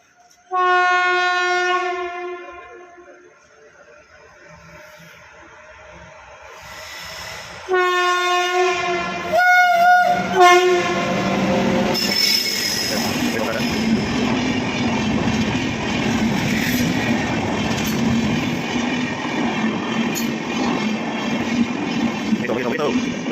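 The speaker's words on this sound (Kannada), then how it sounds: "ಇವಾಗ ಅಲ್ಲಿ ಟ್ರೈನ್ ಇದೆ ಟ್ರೈನ್ ಬರೋಕ್ಕೆ ಸ್ಟಾರ್ಟ್ ಆಗುತ್ತೆ ಬಂತು ಬಂತು" A train horn blares loudly in long sustained blasts, then the rumble and clatter of an approaching train builds and continues steadily close by.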